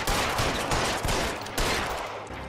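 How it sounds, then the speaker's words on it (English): Gunfire in the video game L.A. Noire, a dense run of close, loud shots and bursts going almost nonstop for a couple of seconds, with no talking over it. "Okay, yeah, he's shooting."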